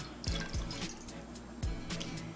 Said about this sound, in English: Now I'm going to pour 1 cup into here.